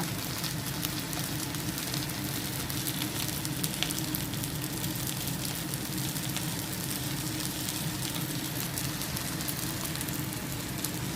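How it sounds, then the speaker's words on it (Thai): Fermented fish (pla som) frying in oil in a pan, a constant dense crackling sizzle like heavy rain, steady and fairly loud from start to finish, with no talking. "เราก็ทอดกันแบบนี้ทอดกินกันง่ายๆค่ะ"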